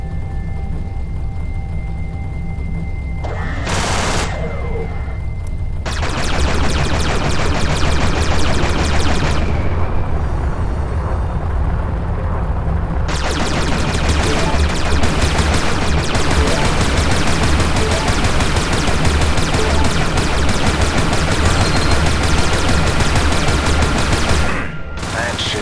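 Video game weapon fire aimed at a mineable asteroid to extract fuel: dense, rapid bursts of shooting that run loud and continuous for most of the stretch, with a brief pause early on.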